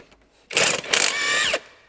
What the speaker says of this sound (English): Take the 3 bolts out.